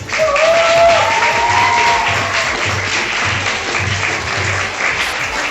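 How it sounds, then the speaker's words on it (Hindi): An audience applauds steadily at a gathering marking the 23 March Resolution Day. The dense clapping is loud and continuous throughout, with a brief whistle-like tone near the start. "तो उस दिन के लिए तालियां बजा दें बहुत सारी"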